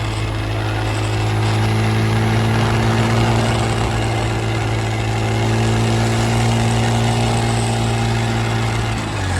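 A 2022 Honda Grom motorcycle with an off-road exhaust runs with a loud, steady droning engine note held close throughout, then the tone shifts slightly at the very end.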